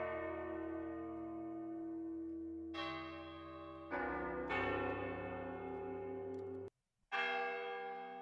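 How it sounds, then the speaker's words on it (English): Church bell tones from a percussion sample library ring in sustained, overlapping strikes with rich harmonic overtones, several fresh hits layering over lingering decay, then a brief silence before another loud strike. "Percussion, church bells."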